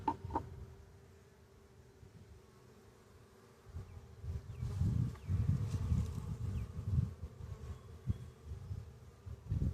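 Honey bees buzzing during a hive inspection of a new package colony, a low steady drone that swells louder and busier partway through, close and continuous.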